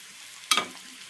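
Egg and chili powder drop into hot oil with onions and are stirred, a brief sharp sizzle burst over a quiet background hiss, close and alone without talk.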